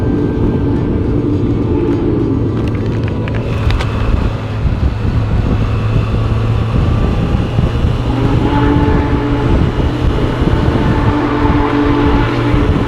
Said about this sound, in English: That is by far the loudest train I've ever heard of here.